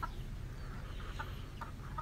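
Free-range chickens being raised for laying cluck softly in a few short bursts over a steady low hum, fairly faint and with no talking.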